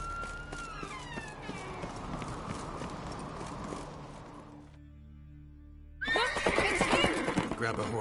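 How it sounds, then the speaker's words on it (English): A horse in the video game The Witcher 3: Wild Hunt whinnies and clip-clops at a run. A short lull follows, then a louder burst of galloping hooves and neighing, with game voices speaking over parts of it. "Grab a horse, we'll chase him down."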